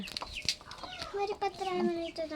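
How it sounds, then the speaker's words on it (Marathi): Village chickens sitting in the sun cluck nearby in short, uneven bursts while people talk over them. "हे उन्हात कसे बसलेत ग बिचाऱ्या कोंबड्या."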